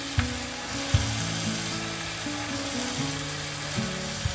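Curry leaves and turmeric fry in hot oil, making a steady close crackling sizzle with a couple of brief clinks from the pan, and no talking.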